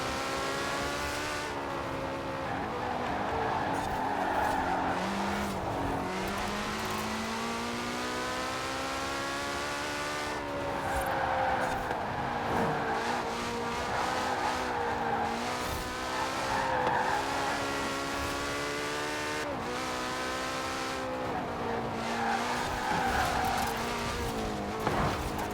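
Forza Horizon 4 car engine droning steadily with rising and falling revs and tire squeal as it slides through turns, loud and continuous for the whole stretch, no talking.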